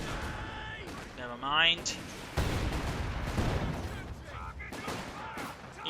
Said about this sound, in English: Grenades perhaps going off against the section.